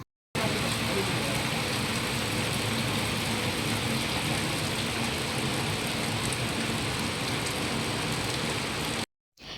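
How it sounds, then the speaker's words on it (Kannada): Steady rain falls in a dense, even hiss on the first rainy day in May in a village, continuous and fairly close for several seconds before cutting off. "ಸೊ ಮಳೆ ಸ್ಟಾರ್ಟ್ ಆದ ದಿನ ಇದು"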